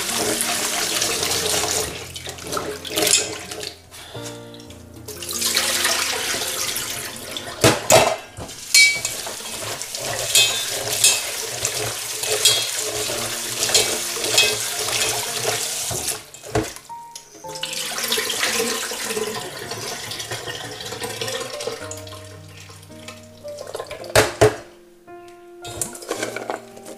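Water running from a tap at a sink while pumpkin pieces are rinsed to remove leftover lime water, with bursts of splashing and flowing water, pauses, and occasional clinks of a bowl, loud and close throughout.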